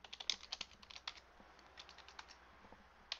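Fingers type on a computer keyboard, tab key included, in a quiet burst of irregular key clicks. The taps are soft and close, cluster in quick runs, pause briefly, and then end with one more tap.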